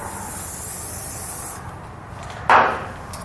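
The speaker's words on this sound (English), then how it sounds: "we'll just take some spray lubricant and then we can slide that isolator right off" Spray lubricant sprayed from an aerosol can onto a rubber muffler hanger isolator under a 2020 Subaru WRX, a steady close hiss that fades out, then a sharp brief burst near the end.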